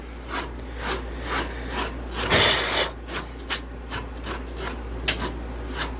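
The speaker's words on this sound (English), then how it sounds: "I'm going to try to clean these, this dirt off of this coil" A brush scrubs dirt off the cooling coil of a 1980s Oasis refrigerated drinking fountain, with steady back-and-forth rasping strokes over a low hum, close up and with no talking.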